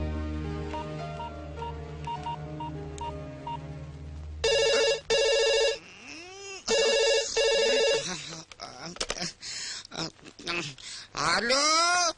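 A telephone rings in repeated bright, electronic bursts during a comedy scene, first preceded by background music, then interleaved with people talking close by.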